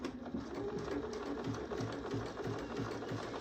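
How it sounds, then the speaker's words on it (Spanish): A Bernina B475 QE sewing machine (Kaffe Edition) stitches a zigzag, its needle mechanism chattering in a fast, even rhythm with regular pulsing beats, close and steady throughout, with no speech. "voy a hacer sencillamente una puntada zigzag para que veáis"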